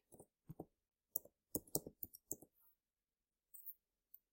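Someone types a web address on a computer keyboard, a short quiet run of irregular key clicks with a brief pause before the last few taps.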